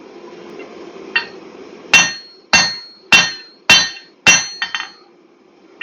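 Hammer blows forging hot steel for a pair of shears, thinning the piece toward a rat's tail: five loud, ringing strikes at a steady beat, each decaying quickly, with a lighter tap before and a double tap after.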